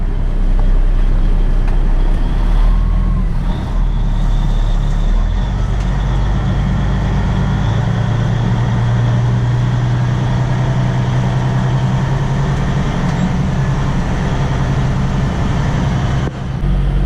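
A truck's engine drones loud and close as it drives around a tight corner, a steady heavy rumble with the pitch rising and holding mid-way, no talking.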